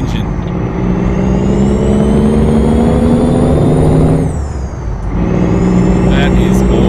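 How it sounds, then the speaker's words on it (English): A Freightliner Argosy truck engine in Euro Truck Simulator 2 roars steadily and climbs in pitch as it accelerates, loud and close, dipping briefly before revving again. "put my foot down and listen to that engine"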